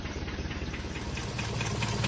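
A 2100 cc, 77-horsepower car engine with over 200,000 km, idling just after starting on the first try despite sitting unused for 19 days, a steady, even rumble with a slight rattle, close and continuous.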